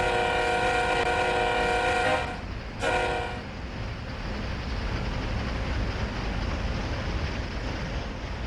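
Freight train locomotives pulling out at Cresson Yard in Train Sim World 5, a long horn blast that cuts off, then a steady loud rumble and rolling wagon noise with no talk.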